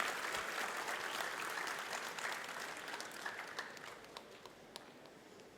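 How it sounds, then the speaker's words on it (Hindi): Sustained applause from a convocation audience welcoming a guest speaker, a dense steady wash of many hands clapping that gradually thins toward the end, with no talking over it. "आप सभी लोग एक जोरदार ताली के साथ स्वागत कीजिए"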